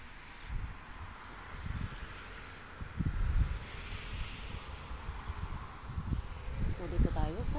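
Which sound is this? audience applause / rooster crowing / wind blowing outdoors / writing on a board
wind blowing outdoors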